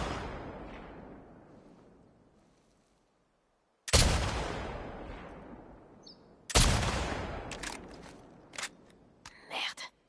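Rifle shots in The Last of Us Part II, two sharp loud reports a few seconds apart, each with a ringing decaying tail, followed by lighter clatter and movement sounds.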